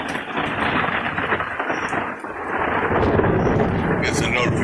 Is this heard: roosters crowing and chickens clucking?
no